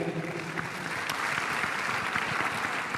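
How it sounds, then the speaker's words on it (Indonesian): Steady audience applause fills a hall during a youth leadership event, with dense, continuous clapping heard from a moderate distance throughout. "ya tepuk tangan dulu untuk Jemia"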